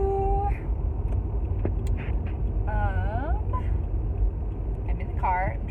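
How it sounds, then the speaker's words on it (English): Car driving home on the road, with a steady low engine and road rumble filling the cabin while someone talks over it. "I'm in the car. I'm driving home from the school."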